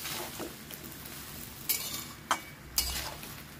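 About two kilograms of potatoes are stirred with salt in a frying pan for aloo posto, giving a soft low sizzle broken by three or four sharp scrapes and clinks of a spoon against the pan.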